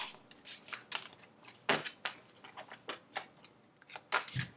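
Tarot cards are shuffled in quick, crisp riffles and flicks close to the microphone, fairly quiet, with short pauses between bursts.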